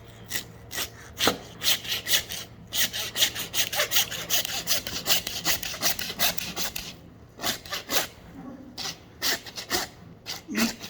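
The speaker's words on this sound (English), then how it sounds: "let me see how hard it'll be to cut another one of these off for you. So really cheap handsaw." A cheap handsaw rasps through hog bone during homestead butchering, close and dry, in rapid back-and-forth strokes with a few short pauses.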